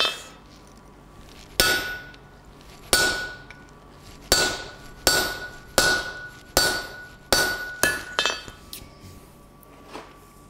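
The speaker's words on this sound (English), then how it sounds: "half a dozen hammer blows" Sharp metallic hammer strikes on a hot steel punch being forged ring out one at a time, about nine blows at an uneven pace, each with a bright clang and a short ringing decay.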